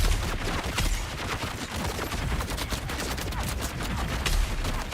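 A sustained barrage of rapid gunfire in Dune: Awakening, dense and loud from start to finish with no pauses and no talk.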